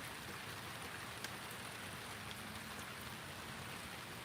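Rain falling steadily on a garden, a faint, even hiss of drops that continues without a break.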